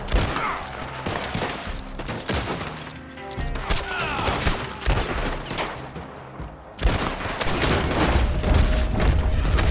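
Repeated gunfire in Red Dead Online, sharp shots and bursts spread across the scene with booming impacts, loud and continuous in a chaotic shootout.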